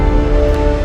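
A brief, dense burst of layered tonal music from a Spider-Man theme transition left without pitch correction, its clashing notes sounding harsh and inharmonic, loud and alone.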